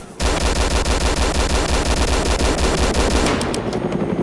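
A Blackhawk helicopter in a video game lets loose sustained automatic gunfire, a dense, loud, rapid stream of shots that runs nearly unbroken for about four seconds before easing slightly at the end.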